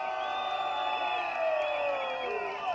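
Sembawang political rally crowd in Singapore roaring and cheering, a sustained wash of voices with rising whoops that swells midway and stays loud throughout.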